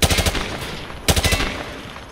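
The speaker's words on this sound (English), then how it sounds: "Grab that weapon off the table and fire at the targets behind you." Two quick bursts of automatic gunfire from a weapon in Call of Duty: Modern Warfare 2, each a rapid string of about four or five loud shots, separated by a short pause and fading echo.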